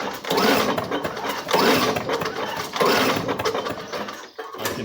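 A 1985 Lawn-Boy lawn mower engine that sat outdoors for years is pull-started without firing: three or four rough whirring recoil pulls with a ratcheting mechanical rhythm, close by.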